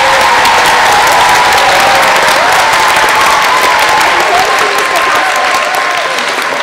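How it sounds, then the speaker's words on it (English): Loud, sustained applause from a school concert audience fills the hall, steady dense clapping with a few cheers, easing slightly toward the end. "Can you please give him a big round of applause, Costa?"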